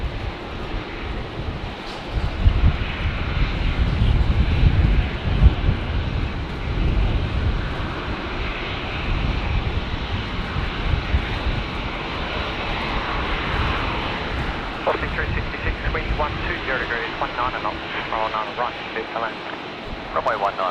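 A China Airlines airliner going around in a strong crosswind at Brisbane Airport drones steadily through windy air, with a voice speaking over the engine rumble and a squawk of radio chatter toward the end.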